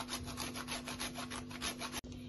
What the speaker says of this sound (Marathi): आता ह्याच्यामध्ये आपण आता हे जायफळ किसून घेऊया